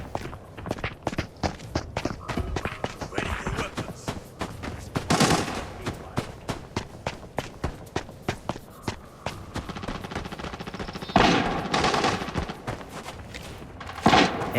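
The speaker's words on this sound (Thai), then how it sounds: "ข้างหน้านี้มีเสียงปืนด้วยครับ" Rapid bursts of gunfire in the video game Arena Breakout crackle in the distance, mixed with quick running footsteps close by.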